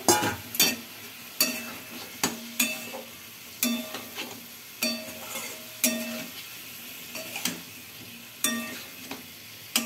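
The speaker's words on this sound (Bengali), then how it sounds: "পটলগুলোকে খুব ভালোভাবে ভেজে নেবেন" Pieces of pointed gourd (potol) fry in a pan while a spatula scrapes and knocks against the metal at a regular pace, sharp strokes set over a softer continuous sizzle.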